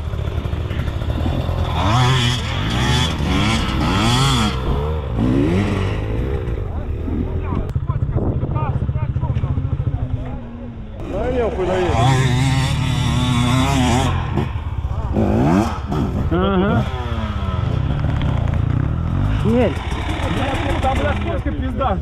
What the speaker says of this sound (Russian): он на мотоцикле поехал.